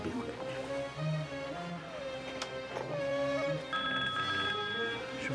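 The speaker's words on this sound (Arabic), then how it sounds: "شوف التليفون" A telephone rings indoors in a family home in an Egyptian television drama, a repeated tonal electronic ring that carries on steadily over faint room sound, with no one talking.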